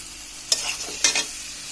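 Spices with coriander powder and ginger paste stir-fried in a pan for a prawn and sweet pumpkin dish, two quick spoon scrapes over a low sizzle, close and brief.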